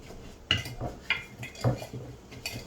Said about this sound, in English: We're kind of breaking up that fruit, blending it together a little bit, just kind of mixing it up.